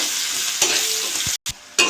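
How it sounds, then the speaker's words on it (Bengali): Onions frying in oil seasoned with black cumin while making a fish curry, a bright continuous sizzle broken by brief stirring scrapes and one short pause, close up. "পেঁয়াজটা একটু ভেজে নেব।"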